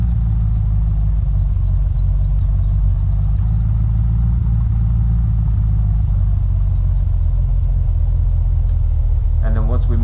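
A vehicle in the game Unturned drives along with a heavy, continuous low rumble of engine, loud and steady throughout, with faint higher tones near the end.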